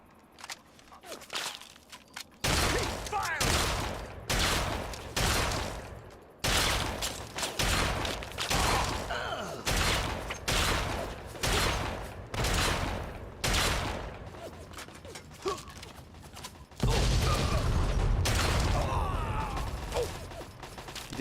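Gunfire in the video game Fallout 3, a series of sharp loud shots spaced irregularly across the clip, mixed with mechanical clicks and rattles, ending in denser noise.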